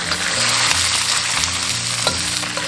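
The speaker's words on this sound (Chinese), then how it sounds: "煎至一面定型过后，我们再给它翻面。" Fish head and bones pan-frying in oil in a hot pan, giving a loud, steady, close sizzle and crackle throughout, with no talking.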